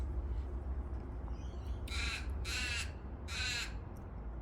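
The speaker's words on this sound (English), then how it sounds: "Crow." A crow caws three times in a row, the calls loud and fairly close over a steady low outdoor rumble.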